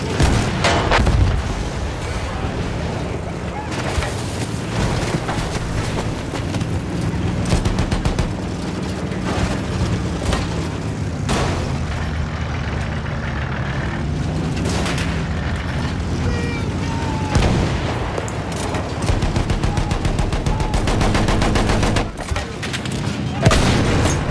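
Battlefield 1 gameplay fills the scene with constant gunfire and heavy booming explosions, layered artillery blasts and rattling shots in a loud, dense battle mix.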